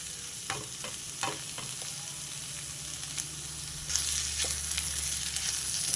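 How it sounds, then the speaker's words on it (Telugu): Chana dal frying in hot oil for a tempering, a steady close sizzle with intermittent stirring scrapes that grows louder and brighter toward the end. "దీన్ని కొంచెం ఈ ఆయిల్లో వేగనివ్వాలి టేస్ట్ బాగుంటుంది"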